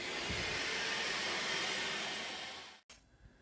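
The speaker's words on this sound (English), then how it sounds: "I took this opportunity to vacuum out all the leaf debris that had collected in this area." A vacuum cleaner roars steadily at close range while sucking leaf debris out of the engine bay of a Mk4 Jetta TDI, then cuts off abruptly near the end, leaving quiet room tone.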